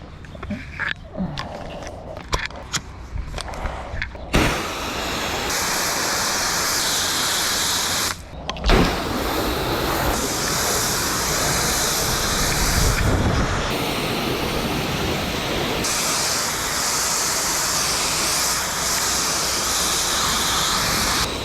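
A pressure washer sprays a 3.5% soft-wash solution on a flat exterior surface during pressure washing work. It begins with short bursts and clicks, then settles into a loud, continuous close-up hiss that is briefly interrupted a couple of times.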